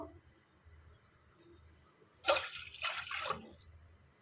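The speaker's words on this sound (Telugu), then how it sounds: "ఇందులో ఒక రెండు గ్లాసులు వాటర్ వేస్తున్నాను" Water is poured into a cooking pot in a quiet home kitchen, a short splashing gush of about a second that comes in two bursts.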